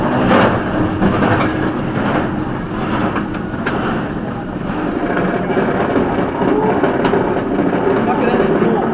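A loud, continuous rumbling ride on the Raptor roller coaster at Cedar Point, heard from the front row, with rattling and clacking over rough track, dense and steady throughout, with crowd noise and voices mixed in.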